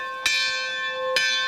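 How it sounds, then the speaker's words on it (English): A steam locomotive's bell rings twice, two clear metallic strikes about a second apart, each leaving a bright, sustained ringing tone that carries between the hits. "Does it have to have the bigger bell that made more noise because it had double boilers instead of one boiler?"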